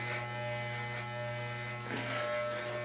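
Electric hair clippers buzz steadily at close range while trimming short hair during a home haircut, a constant electric hum with slight shifts in pitch as the blades move through the hair.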